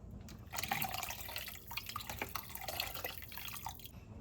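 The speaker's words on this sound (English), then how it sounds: "Just adding a touch more water." Water is poured into a pot of lentils on the stove, a close, soft stream of splashing and dripping lasting a few seconds with no talk.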